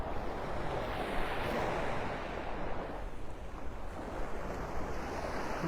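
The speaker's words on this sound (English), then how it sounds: "A beautiful mile-long beach." Surf rolling onto a mile-long Gulf beach at Vanderbilt Beach in Naples, Florida, a steady broadband wash with wind across the microphone, continuous and fairly loud with no voices.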